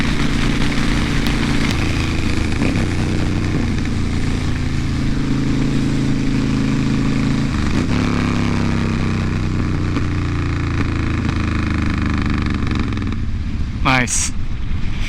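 A 2010 Honda Fury chopper motorcycle rumbles steadily while being ridden, its low engine drone shifting pitch with gear and throttle changes over constant wind noise, with a brief sharp rising whine near the end.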